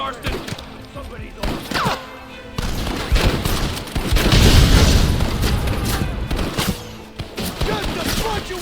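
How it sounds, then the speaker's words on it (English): Rapid Gatling gun fire in the Western game Red Dead Redemption, dense bursts of shots with booming impacts mixed with other gunfire through a chaotic shootout, with voices shouting over it. "You man the Gatling gun, Marston!"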